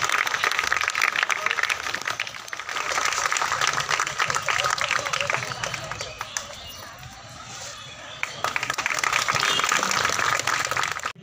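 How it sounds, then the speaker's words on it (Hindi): A seated audience at a Women's Day taekwondo self-defense event for girls claps loudly to welcome a police commissioner. The dense applause continues for several seconds, dips briefly midway, then swells again while an announcer speaks over it. "सर भी पधारे हैं, जोरदार तालियों के साथ उनका स्वागत।"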